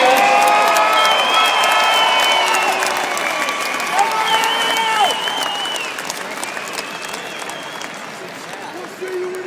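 An arena crowd at an Arenacross motocross event applauding an injured rider, broad distant clapping and scattered cheers filling the space while an announcer's amplified voice talks over it.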